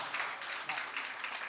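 An audience at a religious gathering in Suraj Mal Vihar, Delhi, gives a short burst of dense, steady applause, a continuous wash of many clapping hands at moderate loudness.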